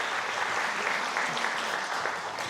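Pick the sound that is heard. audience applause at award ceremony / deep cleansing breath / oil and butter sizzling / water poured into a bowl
audience applause at award ceremony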